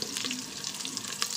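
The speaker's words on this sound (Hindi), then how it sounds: "तो प्याज ब्राउन कर रही हूँ मैं" Onions browning in a pan give a soft, steady hiss and crackle of frying oil, faint and close, with light bubbling and no voices.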